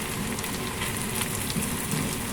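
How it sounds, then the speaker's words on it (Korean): Kimchi fried rice with potato, egg and cheese being stir-fried in a frying pan, a dense continuous crackling sizzle with faint scraping, close and fairly loud, with no voices. "이제 이렇게 볶아 드릴게요"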